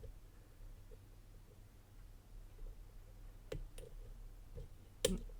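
A lock pick works the pins of a Zeta ZR45 sidebar dimple lock, giving a few faint, sparse clicks over quiet background noise, with a sharper click near the end.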